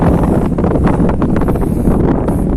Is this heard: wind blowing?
yes